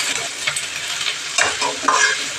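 Onions fry in a pan for a spiced vegetable curry, a continuous loud sizzle broken by a few scraping stirs of the spoon, close up and with no voices.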